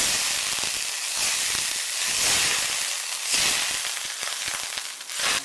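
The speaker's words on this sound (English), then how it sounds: "I am going to put in my butter right now." Butter sizzles loudly in a pan for a steak, a dense steady hiss with crackling pops throughout, close and without talk.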